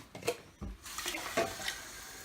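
Water pours in a short, splashy run into a keto pizza mix, a brief trickling rush with small bursts, fairly close and alone.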